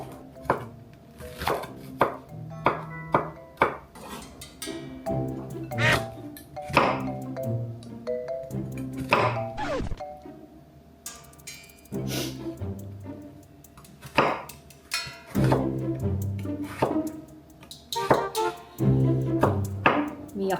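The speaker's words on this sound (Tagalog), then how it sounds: "Chop ko na lang yung onion, no? Chop na lang." A knife chops an onion on a cutting board in a home kitchen, with irregular bursts of quick, sharp knocks and short pauses, close and clear, while someone talks intermittently.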